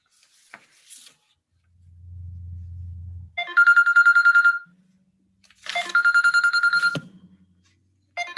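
Telephone rings in a quiet municipal courtroom, two bright bursts of electronic ringing separated by a pause, with low rubbing noise before them.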